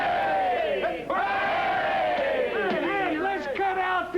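Rowdy saloon crowd in the Oklahoma Territory cheering and whooping for a man who beat a horse with a Prattmobile, loud overlapping shouts and yells close by, with rising and falling hollers throughout.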